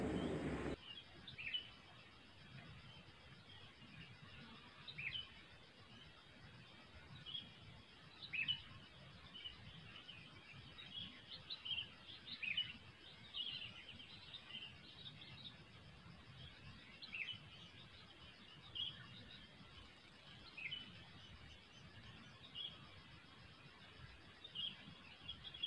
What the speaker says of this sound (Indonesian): Sudah ada bunyi burung puyuh liar yang jantan.